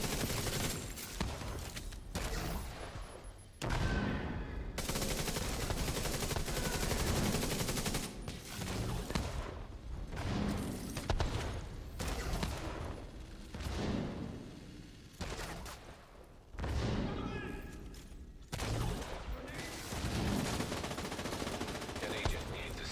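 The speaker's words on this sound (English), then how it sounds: "So they're just shooting down." Enemy gunfire in The Division 2, with bursts of automatic fire and shots that go on almost without a break, loud and dense, with several brief pauses.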